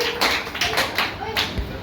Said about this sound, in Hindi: रेखा देवी, रेखा देवी तालियां दीजिए